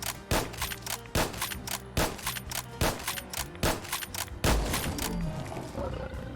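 Winchester Model 1873 lever-action rifle firing .44 rounds in Fallout 4, a steady series of about eight loud booming shots roughly every 0.7 seconds, each with a reverberant tail, the last one heavier.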